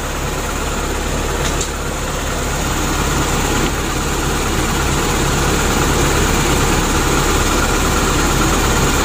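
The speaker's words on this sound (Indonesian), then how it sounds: "Untuk mesinnya sudah hidup seperti ini." A Daihatsu Taruna fuel-injected engine idles steadily with the radiator cap off, giving a loud, constant mechanical hum and vibration close by, with no talking.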